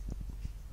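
Low, muffled pops from a campfire in the Betrayal at Krondor game, about five soft bursts scattered across under a second over a faint steady background hiss.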